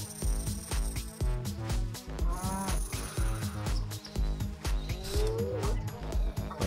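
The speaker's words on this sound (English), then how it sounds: "Oh, got a cow." A cow moos in a survival video game, with low lowing calls heard over busy, rhythmic in-game music that carries on throughout.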